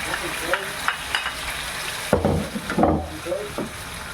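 Mung beans go into a hot pan for mongo with lechon paksiw and get stir-fried; a loud sizzle runs under rough scraping stirs, with a clattering burst about midway as the beans land and the spatula works through them.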